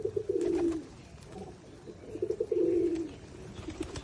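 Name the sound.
pigeons cooing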